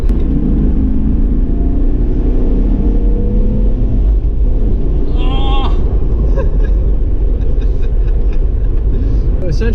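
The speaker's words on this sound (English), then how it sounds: "Oh man, it revs up so fast." BMW E36 M3 with a lightweight flywheel revving hard from inside the cabin, a loud steady engine drone with rising pitch and a faint chirp midway.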